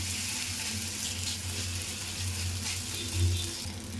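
A chapati cooking on a nonstick dosa pan, giving off a steady, close, even sizzle with a low background hum and no talking.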